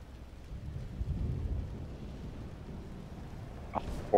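Thunder and a lightning strike in V Rising, a low, distant rolling rumble that swells in the middle and fades, ending with a sudden sharp crack, quiet overall with no speech.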